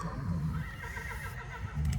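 An old horse whinnies at a horse auction, a loud, close neigh stretching across nearly two seconds with a rougher burst near the end, over steady barn noise.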